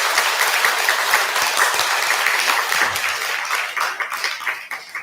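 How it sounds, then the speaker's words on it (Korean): Congregation applause during a Buddhist Sunday service, a full, loud burst of many hands clapping that holds steady before thinning and tapering toward the end. "좀 큰 박수 한번."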